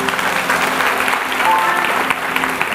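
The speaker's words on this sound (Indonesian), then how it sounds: "Beri tepuk tangan untuk Tuhan." A church congregation applauds in a loud, continuous burst of many hands clapping at once, with scattered voices calling out over the sustained clatter.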